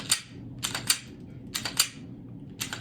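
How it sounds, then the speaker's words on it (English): Several sharp metallic clacks in quick pairs, a gun slide being racked back and released repeatedly, close and crisp with short gaps between. "So when you rack the performance barrel back, this is what you hear."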